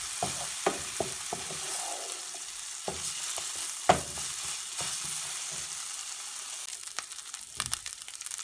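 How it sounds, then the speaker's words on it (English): Ginger garlic paste frying in a pan for a shahi paneer korma, a soft steady sizzle broken by occasional stirring scrapes and clinks, close and fairly quiet, no talking. "Now add the ginger garlic paste and cook till the raw smell goes."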